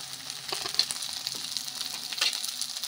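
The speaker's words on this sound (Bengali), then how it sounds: "মশলাটা ভালো করে কষিয়ে আনি" Chili, cumin and turmeric powders sautéing in a pan for a goat and papaya curry, giving a continuous close, bright sizzle and crackle with small spattering pops, no talking.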